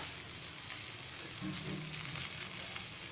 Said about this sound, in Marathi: टोकीची मच्छी आता फ्राय करायला ठेवलेली आहे